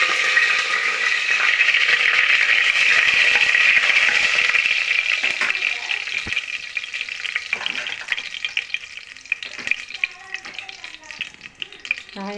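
Whole spices hitting hot oil for a mutton curry give a loud, dense sizzle up close that fades after a few seconds into crackling and the scrape and clink of stirring.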